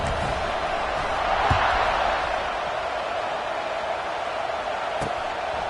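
Spectators fill a Florida college football stadium at kickoff in the College Football 26 video game, making a continuous broad roar that swells slightly early on and is broken by a couple of sharp thuds.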